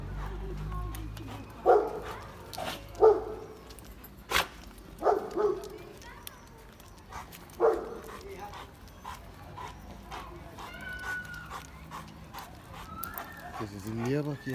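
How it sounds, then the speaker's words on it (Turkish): Dog barks come in scattered short bursts at a distance, mixed with birds and other background noise, from a street dog and a Dogo Argentino. "Şuradan da bir havlama sesi geldi ama."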